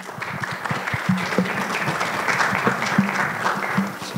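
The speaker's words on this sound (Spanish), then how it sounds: "Un fuerte aplauso para ella, por favor." Audience at a university lecture on gender and sex applauds the speaker, with moderate clapping from a modest crowd and a few faint low-pitched voices underneath.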